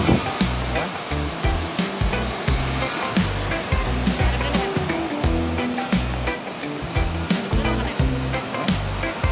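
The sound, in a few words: ocean waves on the beach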